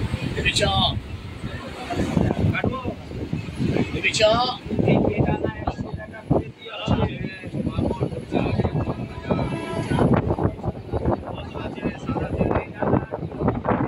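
A Howrah–Panskura local train pulls out of Birshibpur station with a continuous rumbling, rattling roll, buffeted by wind noise close to the microphone, with faint background chatter.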